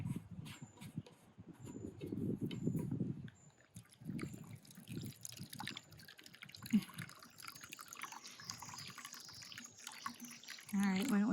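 Water poured into a dog's bowl at a camp, a soft trickle and splashing that builds toward the end, with a person talking earlier and faint outdoor background.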